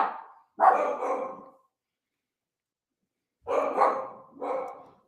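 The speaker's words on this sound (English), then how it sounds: "That's my dogs barking there." Several dogs bark in two bursts: a brief yap, a longer bark run, a gap of silence, then two more close, loud barks indoors.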